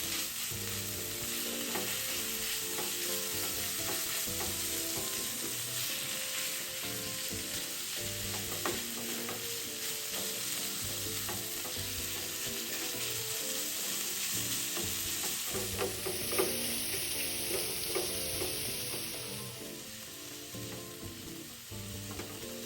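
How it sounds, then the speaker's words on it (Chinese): Minced pork belly stir-fried with onions in a pan, a loud continuous sizzle with steady scraping and stirring throughout and no voices. "接着将肉末炒散"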